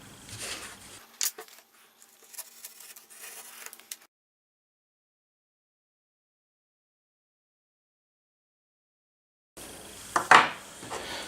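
A homemade knife made from a carpenter's saw blade cuts sheath material. Short scraping and slicing strokes are heard close up at the start, then a long silence, then one more louder burst of cutting near the end.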